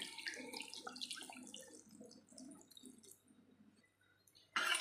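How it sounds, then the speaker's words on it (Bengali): Water is poured into a pot of simmering taro, potato and fish curry, giving a steady splashing, running pour that fades before a brief louder splash at the end. "তাই এবারে দিয়ে দেবো পরিমাণ মতো জল।"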